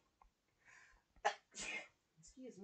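A single sharp sneeze bursts out nearby, surrounded by soft breaths and throat sounds, followed by a few quiet spoken words.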